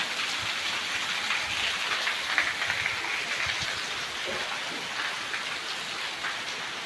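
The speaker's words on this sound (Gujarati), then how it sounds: "તો જોઈ લો બહુ ફાસ્ટ વરસાદ આવે" Heavy rain pours down in a dense, steady hiss outdoors, with water running off a rooftop, loud and continuous without a break.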